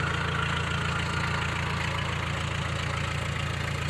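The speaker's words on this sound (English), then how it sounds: "Just a good old tractor." An International Harvester 424 tractor engine idles at a farm barn, a steady low rhythmic chugging with a slight knock, close and continuous with no voices.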